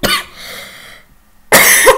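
A person coughs twice, loud and close, with a short burst at the start and another a second and a half later, separated by a quiet gap.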